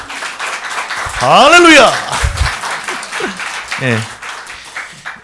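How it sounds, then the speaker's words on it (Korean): A church congregation applauds during a service, with steady clapping beneath a loud exclamation and brief speech. "우리 하나님께 한번 영광의 박수 올릴까요?"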